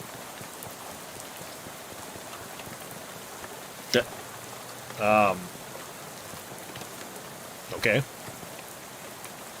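Steady rain patters evenly in the Shadows Over Loathing video game, beside gas pumps. A few brief clicks and a short spoken word break through.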